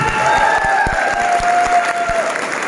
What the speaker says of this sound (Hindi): तालियों के साथ में जोरदार